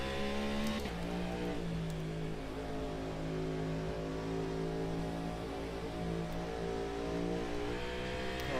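An LMDh prototype race car engine in Automobilista 2 at Barcelona drones steadily at high revs, shifting pitch as gears change early on, then holding a sustained whine, heard fairly quietly with no talking.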